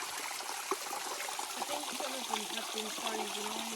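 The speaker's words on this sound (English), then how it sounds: "This one here is a tiny little waterfall." A small waterfall on a cold hike in Croatia gives a steady, soft trickle and splash of water. It continues evenly without pauses, with faint background sounds and no clear speech.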